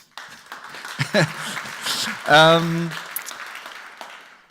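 Audience applause at a panel discussion on revenue models, a steady wash of clapping that swells around the middle while a voice calls out over it.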